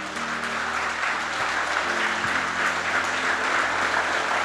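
A church congregation applauds during a sermon, producing a steady, moderately loud patter of many hands clapping together without a break.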